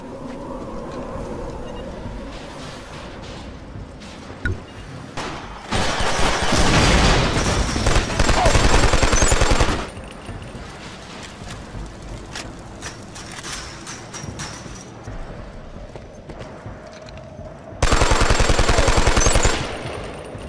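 Rapid machine-gun fire and gunshot bursts from PS3 multiplayer shooter games, loud sustained volleys in two long stretches separated by quieter game ambience and scattered shots.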